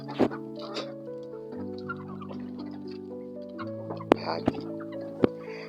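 Broiler chickens cluck softly now and then over a steady hum with sustained tonal drones, punctuated by a few sharp taps and clicks.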